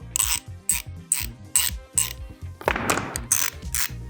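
Distinct metallic clicks repeat at a steady, fairly slow pace, each one crisp and separate, a coarse ratcheting rhythm close by.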